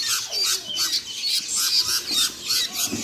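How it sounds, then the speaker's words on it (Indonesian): Twelve long-tailed shrike (pentet Banyuwangi) chicks chirping and squawking together in a continuous, busy chorus of shrill calls, close and fairly loud with no talking. "Ada 12 ekor anakan pentet Banyuwangi."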